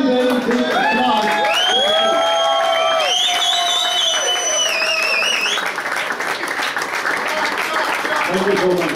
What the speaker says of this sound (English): Let us give a very, very big applause.